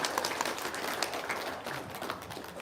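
Audience applause filling a room, a steady wash of many hands clapping throughout at moderate loudness, with no speech over it.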